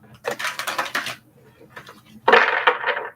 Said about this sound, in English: Cards are shuffling so well.